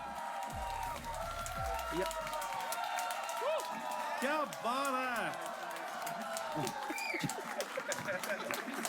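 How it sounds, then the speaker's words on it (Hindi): A studio audience at a comedy game show claps continuously, with cheers and whoops over a sustained, even wash of applause, while a host says a few words over it. "तो शुरू करते हैं तालियों के साथ।"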